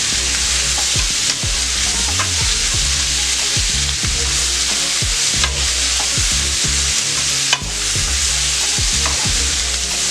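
Ground meat, smoked hamburger, sizzles steadily in a pan, with repeated scraping stirs every second or so, close and continuous with no talking.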